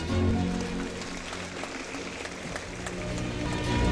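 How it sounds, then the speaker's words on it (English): Audience at a CBSE school investiture ceremony at CK School of Progressive Education clapping, a dense, continuous patter of many hands that stays steady for several seconds. "Give them a big round of applause."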